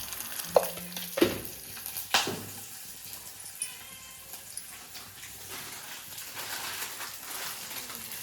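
Onion, bay leaf, mustard seeds and curry leaves tempering in hot oil for a home-style katachi amti, giving a steady close sizzle with a few sharp crackles and pops early on, no talk over it.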